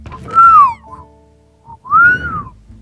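A person whistles two high-pitched rising-and-falling notes, each about half a second long and separated by a pause, loud and close with a little background noise.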